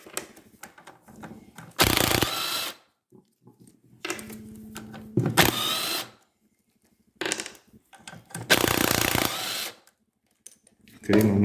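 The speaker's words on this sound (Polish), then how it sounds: "Przyspieszę ten proces troszkę wkrętarką." A cordless screwdriver spins the engine of a Fiat 126p, with several loud whirring bursts of a second or so separated by quieter pauses and faint clicks.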